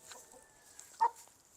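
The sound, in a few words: chickens clucking while being fed grain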